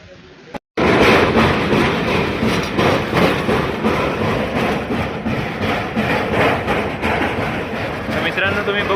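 A passenger train climbs through the Kasara ghat, heard from inside the coach. After a brief silence, a loud, steady rumble with rhythmic wheel clatter runs under people talking.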